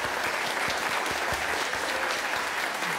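A church congregation applauding during a hymn of praise, steady rhythmic clapping from many hands that fills the space for the whole stretch.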